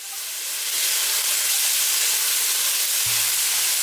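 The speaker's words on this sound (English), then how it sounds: "In our hot oiled pan, we've added our chopped ginger and garlic. Allow it to get fragrant. Add the red fermented bean curd and stir it up." Red fermented bean curd is stirred into hot oil with chopped ginger and garlic, a loud, dense, steady sizzling hiss that swells in the first second and then holds, with no voices.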